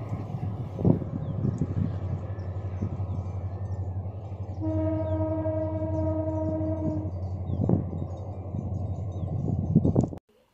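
A train runs along a railway track near a crab-catching spot by a river, a steady close rumble of wheels throughout, with a sustained horn blast in the middle and rattling clatter toward the end.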